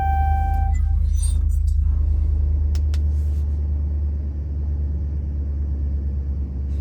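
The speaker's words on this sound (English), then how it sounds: "press the brake and start your vehicle" A 2008 Dodge Magnum engine cranks and starts, settling into a steady low idle rumble that continues throughout, with a few faint clicks early on.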